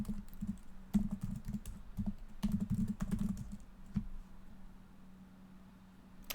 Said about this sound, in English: most of this is me just typing and seeing what comes out